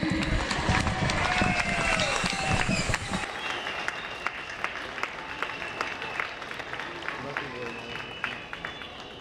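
Outdoor crowd applause for a group of singers at a public march, a loud burst of clapping that fades after about three seconds into scattered claps and murmur from the gathering.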